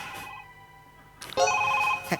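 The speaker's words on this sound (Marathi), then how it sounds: "पुतल्याचा फोन वाजतोय." A phone rings on a comedy stage show with a bright electronic tone in two bursts, a short ring, a pause of near-quiet, then a louder sustained ring, close by.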